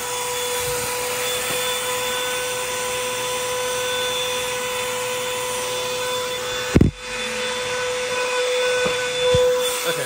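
A clogged upright vacuum cleaner being tried out in a Goodwill store runs with a steady, close motor drone and whine, broken by a single sharp thump partway through before the hum carries on.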